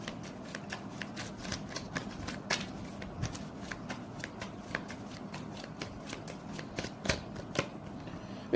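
Tarot cards shuffled by hand, a close, steady stream of crisp riffling clicks and slaps running the whole length.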